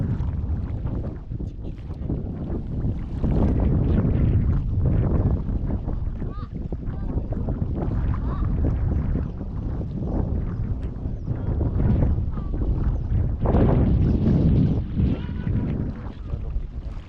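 A strong evening wind sweeps along the Mekong riverbank at Vientiane, rumbling and buffeting the microphone in a constant low roar with gusting surges for about seventeen seconds.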